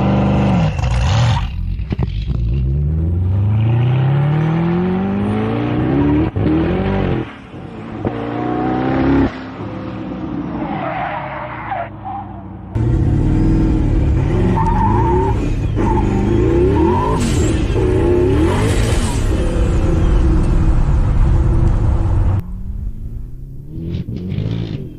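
A modified Lamborghini Huracan accelerates hard on a race track, very loud and close, with repeated rising engine sweeps, roars through gear changes and brief lifts, and a harsh, sustained high-rev wail near the end.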